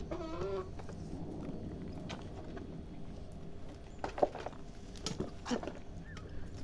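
Portuguese chickens on a farm give a few scattered clucks and short calls over a steady low background hum, with brief louder bursts toward the end.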